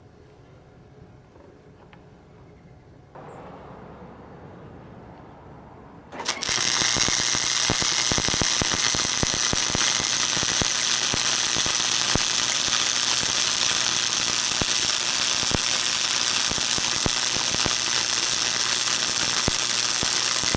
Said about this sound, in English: first weld on the max setting